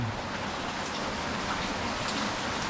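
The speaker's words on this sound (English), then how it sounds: "It's raining again." Steady rain falling outside a cave house, a dense continuous hiss of drops on surfaces, fairly loud and close, with no talking.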